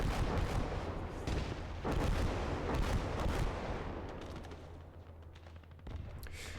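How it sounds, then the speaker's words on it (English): An artillery barrage in the World War II game Gates of Hell: Ostfront sounds as rolling booms and clustered gunfire, heavy at first and thinning out before a final burst, with no voices. "he is calling in another barrage"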